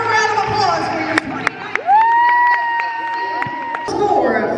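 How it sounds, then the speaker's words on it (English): A crowd at a scored competition cheers and whoops, with a rising whistle-like whoop standing out over steady broadband audience noise and scattered claps. "One more round of applause for your"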